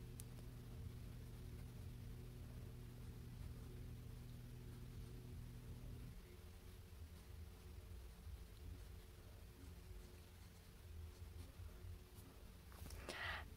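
A Kaweco Lilliput fountain pen with a stainless steel broad nib writing on Tomoe River paper, a faint continuous scratchy hiss of strokes against a low steady background hum, with no talk.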